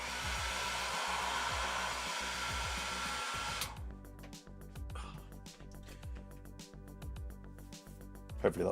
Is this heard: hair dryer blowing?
yes